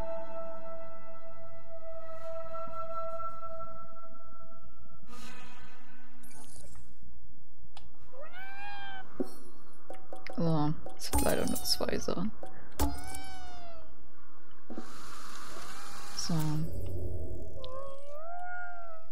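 Cats in the Ghostwire: Tokyo video game meow several times, some of the cries drawn out and wavering, mixed with game sounds and someone speaking German.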